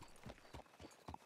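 Hooves of a white Arabian horse clip-clopping at a walk, about four soft even thuds, faint and slightly distant over low background noise.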